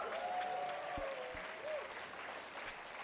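Stream alert sound of claps and cheers plays steadily through the whole stretch, a dense crowd-like applause texture with a short rising tonal chime over it.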